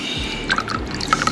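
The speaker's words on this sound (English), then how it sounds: "Finally, you pour into your cocktail glass." A pink cocktail is poured from a shaker into a cocktail glass, with a short close liquid pour of a few drips and splashes, fairly loud with no talk.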